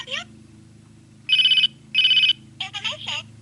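A children's toy cell phone replica rings twice in even electronic bursts over a steady hum, followed by short chirpy toy sounds.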